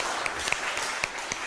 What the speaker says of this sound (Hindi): तालियां बजाइए, चलिए।